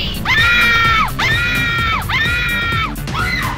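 Repeated identical screams from the Night Trap video game, three long harmonic shrieks in steady succession, loud and close, with a fourth starting at the end.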